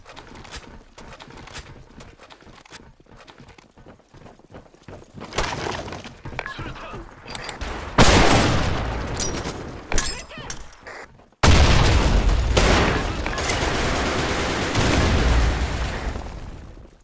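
Gunfire in the online shooter Blackshot: dense bursts of rapid shots and crashing breaking sounds, growing loud and continuous in the second half, with no talking.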